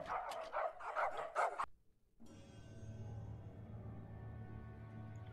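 Dogs in the 2009 movie Coraline bark in a quick, loud burst of several barks, and after a short silence a sustained low musical tone follows.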